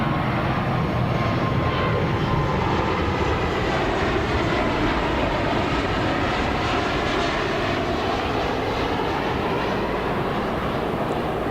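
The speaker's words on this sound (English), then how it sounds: "after this plane goes over right here" An airplane passes overhead as a loud, continuous engine roar that holds steady throughout the clip, with no voices over it.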